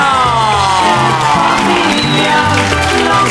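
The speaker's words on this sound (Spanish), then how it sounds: "El aplauso es para Gilbertito Serrano." A television studio audience applauds and cheers loudly and continuously, whoops and shouts rising over the clapping, with music-like tones running underneath.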